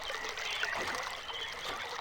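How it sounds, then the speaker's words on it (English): Steady trickling, gurgling water flowing continuously through a tube in the video game Myst, moderately quiet, with no breaks or talk. "you can hear the water still flowing in the tube right now"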